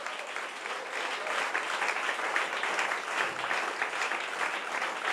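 A church congregation breaks into steady, full applause that holds at an even, moderately loud level, dense and continuous from start to finish.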